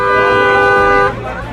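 A car horn honks outside a bungalow gate, one loud sustained blast lasting about a second before cutting off, with a voice heard around it.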